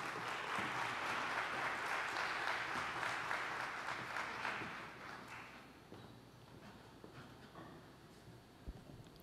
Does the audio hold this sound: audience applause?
yes